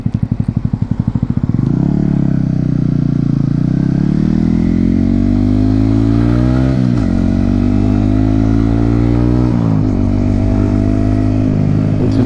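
A motorcycle ridden around Hossegor and Capbreton on the French coast gives a close, steady engine drone that rises and dips as the rider changes speed and gears, with no talking.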